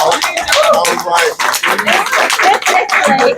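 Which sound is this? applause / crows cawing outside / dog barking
applause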